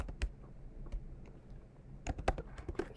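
Faint, close tapping on a computer keyboard, a few scattered keystrokes followed by a quicker burst of typing near the end.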